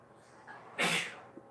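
A single sharp sneeze bursts out, close and fairly loud, followed by a short breathy trail and quiet background.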